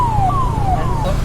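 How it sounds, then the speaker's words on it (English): An ambulance siren wails through busy night-time city traffic in a falling, repeating tone, loud and near over the low rumble of engines. "See, there is an ambulance"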